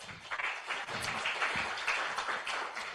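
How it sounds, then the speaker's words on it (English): At an international communication science conference, the audience gives a short round of applause for the panel speakers, soft, moderately dense clapping heard at low level. "please give them a warm applause"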